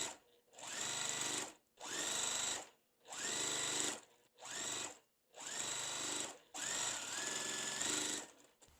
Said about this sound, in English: So what I'm doing next is sewing our corner pieces onto all 4 corners.